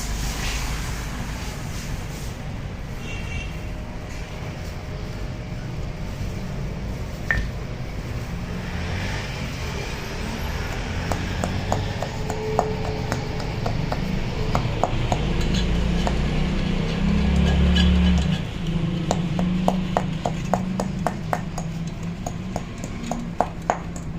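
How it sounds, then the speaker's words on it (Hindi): Samalfar being broken into pieces, a run of quick light tapping knocks in irregular bursts over a steady background rumble, nearby and fairly loud. "ये समलफार की टुकड़ाई हो रही है"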